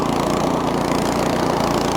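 A Craftsman snowblower chews through wet, heavy snow with a loud, steady engine roar and churning auger, continuous and close, with no talk.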